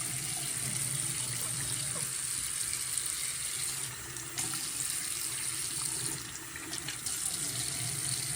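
Steady running water from a tap pours while an animal is being bathed, a continuous close hiss with slight shifts in the flow and no talk.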